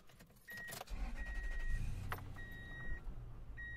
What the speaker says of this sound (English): Go ahead and crank it up as we do the rest of the walk around.